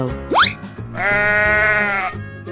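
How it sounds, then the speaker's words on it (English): A sheep bleats once, a long wavering call of about a second that stands out clearly over a low background rumble, preceded by a brief rising squeak. "Sheep."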